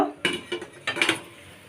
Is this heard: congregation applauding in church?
no